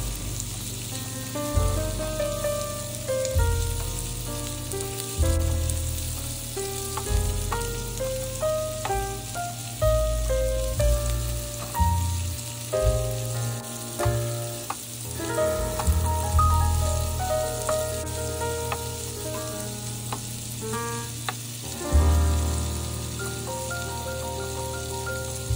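Shrimp and fish fry and get stirred in a pan, a soft, crackling sizzle running beneath louder melodic background music.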